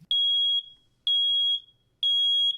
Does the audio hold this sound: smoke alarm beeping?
yes